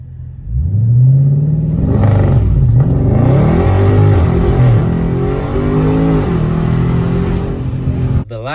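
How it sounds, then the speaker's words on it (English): A Dodge Charger or Challenger launching from a standstill: the engine roars loudly and steadily up through the revs, with rising pitch sweeps as it pulls through the gears, close and dominant throughout. "you go, let go the brake, let the car do the rest"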